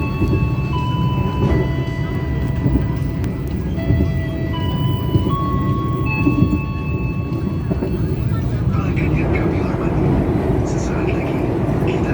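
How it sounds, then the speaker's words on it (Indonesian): The Airlangga train pulling into Cepu station in Indonesia, a steady close rumble of the moving train with high tonal squeals and whines sliding above it, easing off toward the end. "kereta api pun sampai di stasiun Cepu"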